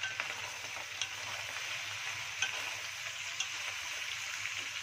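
Shrimp shells fry and crackle in a pot for shrimp soup while being stirred, a steady close sizzle with faint scraping ticks throughout.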